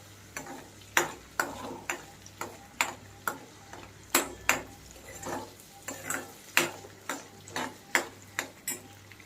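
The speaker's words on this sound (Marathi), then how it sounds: "आपण हा मिक्सरमधला मसाला भाजून घेत आहोत." Ground spice paste is roasted in a pan while a spatula stirs it, giving a steady run of sharp, evenly spaced scraping clicks over a low background hum; no voices.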